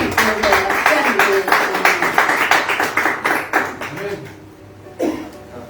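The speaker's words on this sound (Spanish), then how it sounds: "Denle un fuerte aplauso al Señor." A church congregation claps in a steady, rhythmic beat during a Spanish-language worship service, with voices sounding over the clapping before it fades toward the end.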